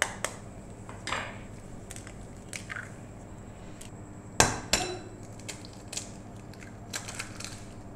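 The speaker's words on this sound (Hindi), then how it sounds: "अब हम इसमें अंडे शामिल कर लेंगे। हमने यहाँ पर लिए हैं 4 अदद अंडे।" Four eggs cracked against a pan of potatoes and onions for an omelette, with scattered sharp taps and two firmer cracks close by over faint kitchen hiss, no talking.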